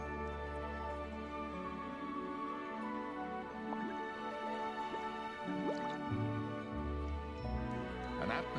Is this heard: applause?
no